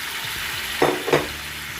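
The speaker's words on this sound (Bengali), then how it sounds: "তেল ছেড়ে দিয়েছে, এবার সেদ্ধ করা ডালটা দিয়ে দিচ্ছি" Boiled lentils hit hot oil and fried spices in a pan, a constant sizzle broken by two louder splashing bursts as they are stirred in.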